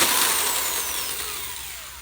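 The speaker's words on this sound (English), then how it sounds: "I'm gonna try this again with a 3/4, I don't know what these are called, cutting tools, something, drilling hole makers." A 3/4-inch hole saw bores a hole in a custom arcade control deck, giving a loud, steady grinding whine that runs the whole time and fades slightly near the end, with no talking.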